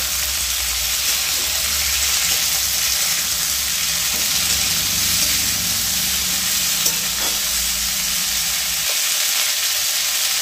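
Drumstick pieces (sojne data) frying in a pan, a loud continuous sizzle with steady crackle and occasional stirring scrapes, close and alone without talk.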